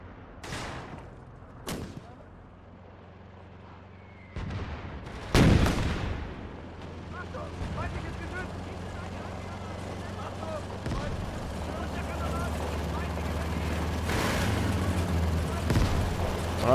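Mortar fire strikes a defensive position in the WWII game Gates of Hell, with sharp explosive blasts near the start and middle and distant rumbling gunfire and battle noise rising throughout.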